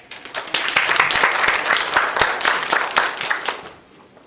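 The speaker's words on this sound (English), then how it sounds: "if you guys can give her a warm welcome and applause" An audience breaks into applause welcoming a speaker to a hijab awareness talk, many hands clapping steadily for about three seconds before fading out, with no talking over it.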